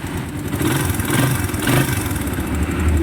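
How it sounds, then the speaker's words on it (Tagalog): A motorcycle engine running close by, a steady rumbling idle with a rapid ticking rattle, swelling slightly as the throttle rises and falls. "Ito ang tunog ng motor niya mga boss."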